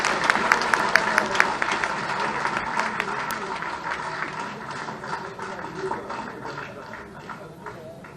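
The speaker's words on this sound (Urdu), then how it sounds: "تو محترم حامد میر صاحب آپ کی تالیوں کی گونج میں" An audience at a political gathering applauds, with dense, crisp clapping that is loudest at first and gradually thins and fades over several seconds.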